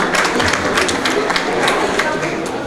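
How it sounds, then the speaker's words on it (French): Guests at a wedding evening reception clap in a brisk, uneven burst of individual hand claps over a busy room, with voices in the mix. "Est-ce qu'on peut applaudir pour moi, s'il vous plaît?"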